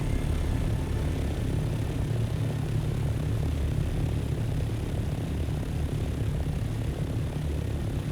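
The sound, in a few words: ornithopter flying in video game Dune Awakening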